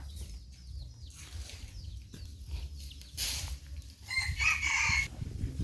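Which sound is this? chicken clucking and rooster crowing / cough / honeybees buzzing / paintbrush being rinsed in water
chicken clucking and rooster crowing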